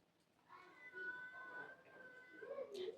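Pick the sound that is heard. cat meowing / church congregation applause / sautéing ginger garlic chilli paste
cat meowing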